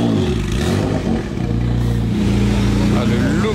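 A Jaguar XJ220 supercar arrives, its engine idling with a deep, steady burble and low rumble close by, running continuously without much revving.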